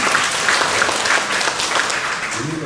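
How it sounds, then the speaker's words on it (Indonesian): Steady applause from an audience at a government public-service workshop fills the room, close and continuous for a few seconds with no voices over it. "Tepuk tangan dulu untuk capaian ini."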